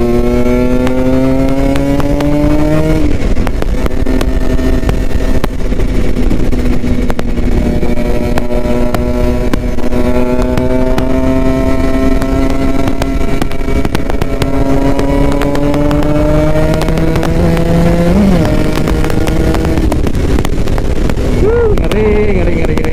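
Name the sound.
Kawasaki Ninja RR motorcycle engine riding through traffic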